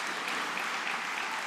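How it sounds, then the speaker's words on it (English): Audience applause at a leadership award celebration for a Trenton school program, steady clapping from a crowd filling the room without pause, no voices standing out. "I'll take applause for that."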